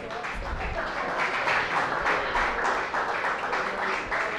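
An audience applauds at a cooking competition event, a dense, steady wash of clapping that holds for several seconds at moderate loudness without voices standing out.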